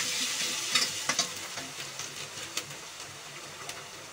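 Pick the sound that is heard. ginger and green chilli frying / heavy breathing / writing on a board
ginger and green chilli frying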